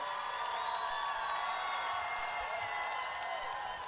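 A festival crowd at Forza ZU 2015 cheers and applauds a singer, a steady, bright wash of clapping and shouting filling the space evenly throughout the short stretch.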